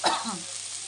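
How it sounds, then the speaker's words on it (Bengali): Onion, ginger, garlic and chili sautéing in a hot pan, a brief close burst of sizzling that fades into a steady hiss. "প্রথমে ওই জন্য পেঁয়াজ, আদা, রসুন, লঙ্কা যা যা লাগে সব এখন কষিয়ে নিচ্ছি।"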